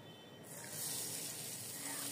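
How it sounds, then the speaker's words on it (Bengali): Pulao rice being rinsed in water, with a steady splashing, running-water rush that starts after a brief quiet moment and continues at an even level close by. "এবার পোলাও চালগুলোকে খুব ভালো মতো জল দিয়ে ধুয়ে নেব।"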